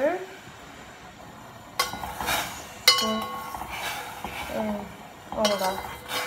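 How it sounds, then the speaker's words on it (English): Tapioca balls are stirred in a pot with a utensil, giving a few sharp clinks and scrapes against the metal, spaced irregularly over a faint background hiss. "to make my tapioca balls thick, what I'm going to do is stir."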